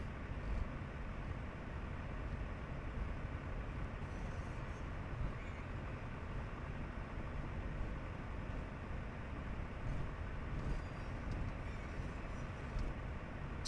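A small plane's engine idles at about 1200 RPM while taxiing in the flight game Deadstick, a steady, dense rumbling drone that stays constant and fairly loud throughout with no talking.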